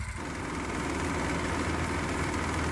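A modified 212 cc Predator gasoline engine idles steadily with a low, even rumble and a faint mechanical buzz, continuous and unchanging throughout.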